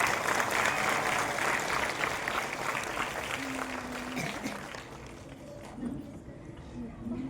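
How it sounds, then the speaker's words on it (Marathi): Sustained applause from a large crowd welcoming a Burmese monk at a Buddhist gathering, loud and dense at first, then thinning and fading with faint voices and other sounds underneath. "आपण सर्वांनी टाळ्या वाजवायच्या."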